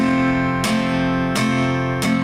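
Acoustic guitar playing the chords of a song with plain downstrums, three strong strums spaced evenly and ringing out loud and close, alone with no talking.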